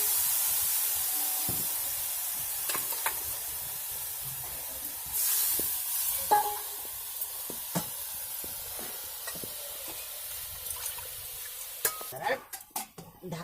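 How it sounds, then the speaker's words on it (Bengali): Water splashed into a hot wok of eggplant curry (begun chorchori) sets off a loud, steady hissing sizzle that slowly fades, broken by clinks and clatters of a utensil and a plate lid near the end. "এই অল্প জল দিয়ে কড়াইতে দিয়ে ঢেকে দিতে হবে।"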